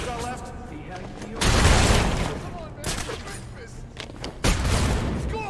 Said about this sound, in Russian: стрельба началась.